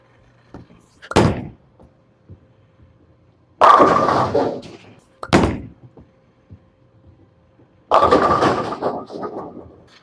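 Bowling balls rolled down a lane, each ending in a loud crashing hit on the pins: four heavy impacts at uneven spacing, two short cracks and two longer rattling crashes, close and clear over a quiet background with no talk.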